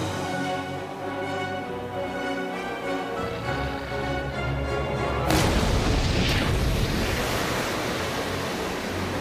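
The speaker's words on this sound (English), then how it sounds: "Shoot your cannons into the sea." Deep booms of cannon fire roll out over a constant rushing wash like surf, growing heavier partway through.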